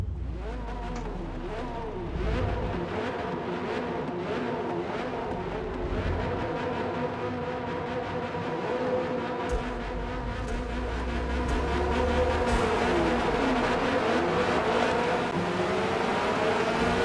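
Corvette C8.R race car at Hakone GP in a racing video game, engine droning and rising through gears as the race starts, with many other cars' engines layered around it, steady and loud throughout.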